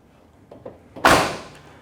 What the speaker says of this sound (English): Door is shut nicely, no issues there.